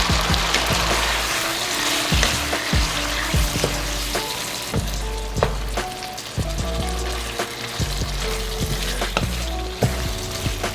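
Red onion, thyme and a cinnamon stick frying in a curry pan, with steady close sizzling broken by repeated sharp clinks and taps of stirring and utensils against the pan.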